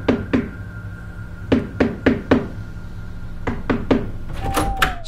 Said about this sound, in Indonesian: setelah mendengar ketukan pintu aku pun membukanya